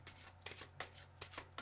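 Tarot cards shuffled by hand at close range, with a string of short, soft riffling bursts spaced unevenly over a quiet background.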